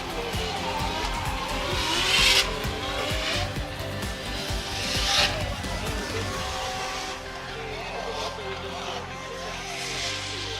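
Drift cars practice at Ebisu Circuit West Course in Fukushima, engines roaring and tires squealing in long rising and falling waves, heard from trackside at moderate distance, with talk over the noise throughout.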